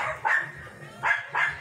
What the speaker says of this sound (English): Please excuse the dog barking.